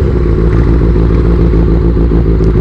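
Motorcycles riding on a road make a loud, continuous engine clatter and drone that stays close and constant throughout.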